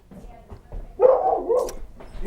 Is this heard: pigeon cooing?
no